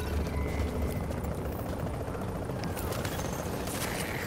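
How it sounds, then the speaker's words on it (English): In a video game, a helicopter approaches as a dense, steady rotor thrum with a rough, continuous texture, moderately loud throughout. "Chopper is inbound."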